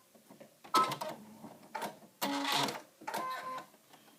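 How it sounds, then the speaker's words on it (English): A home sewing machine runs a decorative stitch on fabric for a postcard embellishment, heard in several short, fairly quiet bursts of rapid mechanical chatter separated by brief pauses. "I used a fun stitch from my machine."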